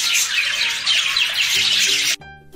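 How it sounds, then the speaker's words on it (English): A parrot squawks in a harsh, continuous screeching burst lasting about two seconds, loud and close, then cuts off abruptly into a brief tonal tail. "P for parrot."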